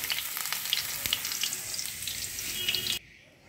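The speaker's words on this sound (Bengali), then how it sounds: "আলুটা লাল লাল করে ভাজা হয়ে গেছে" Potatoes crackle and sizzle in hot oil for about three seconds, a bright, busy hiss with small pops, before the sound cuts off abruptly into near silence.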